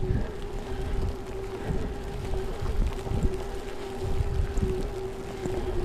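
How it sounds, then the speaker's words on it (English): A Haoqi Cheetah fat tire e-bike rides through snow, its motor giving a steady, low hum with a faint constant whine and soft rumbling underneath, and no voices. "You hear a little bit of motor noise, and that's about it."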